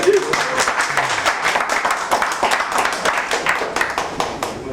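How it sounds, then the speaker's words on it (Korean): Applause at a political endorsement event in Incheon for mayoral candidate Yoo Jeong-bok, dense clapping from a crowd filling the whole stretch at steady strength, with voices mixed in beneath. "박수!"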